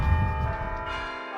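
Church bells of a church in Boca Grande ring out at a moderate distance, their resonant tones layered over low rumbling background noise.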